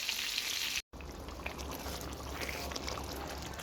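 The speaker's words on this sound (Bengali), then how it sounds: "চিকেনের রোস্টের মশলাটা খুব ভালো করে কষিয়ে নিচ্ছি" Chicken roast masala frying in a pan, a steady close crackle and hiss with a brief dropout near the start.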